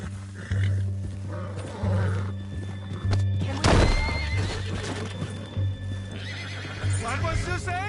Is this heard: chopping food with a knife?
no